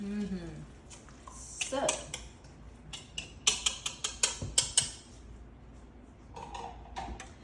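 Korean vegetable pancake batter with sweet potato being mixed in a bowl, a series of quick clinking taps and scrapes of utensil against the bowl, close and moderately loud, with a person talking over parts of it.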